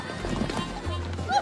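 A horse's hooves clip-clop softly as it is led away on a frontier western street, faint and rhythmic beneath a steady background hum, with people talking nearby.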